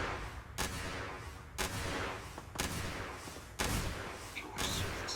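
Gunfire in the space game Starfield: several sharp, loud shots land about once a second, each with a short rumbling tail, over a constant background din of combat.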